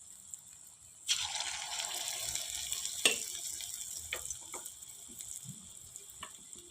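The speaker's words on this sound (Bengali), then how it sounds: "এবার এমনি একে একে ডায়নামাইটগুলোকে এর মধ্যে ছেড়ে দেব" Chicken dynamite pieces dropped into hot oil in a wok (kadai) set off a sudden steady sizzle and bubbling that carries on throughout, with a few sharp pops and spatters, close and fairly soft.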